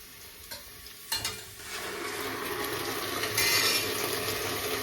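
Mushrooms fry in a pan on a stove with a steady close sizzle that grows louder, after a sharp clatter of a utensil against the pan.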